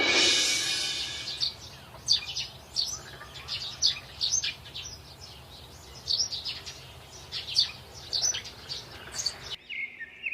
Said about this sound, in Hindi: सुबह होते ही चिड़ियों की चहचहाहट की आवाज से रवि आश्चर्य से उठे